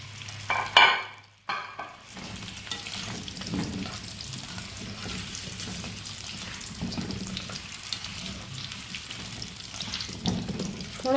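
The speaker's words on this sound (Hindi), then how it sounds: "इसको गर्म कर लेंगे और उसमें हम अपने टिंडे फ्राई करेंगे" Apple gourds (tinda) frying in about a cup of hot oil, a steady broadband sizzle that runs the whole time at moderate level, with a brief clatter of stirring or handling near the start.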